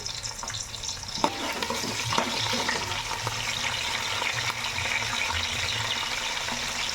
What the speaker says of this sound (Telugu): కరివేపాకు కొద్దిగా వేస్తున్నాం